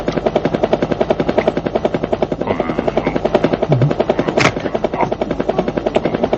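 Cartoon helicopter with a loud, steady, rapid rotor chop that runs throughout, close and dominant, with a brief sharp burst partway through.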